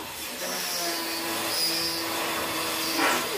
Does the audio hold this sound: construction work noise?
yes